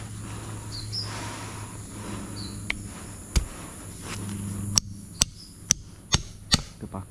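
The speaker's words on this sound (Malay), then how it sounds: "Kita paku lah, mudah sikit." Nails hammered outdoors beside a garden, sharp distinct knocks, one early then a quicker series of about six, over a steady background hum of insects.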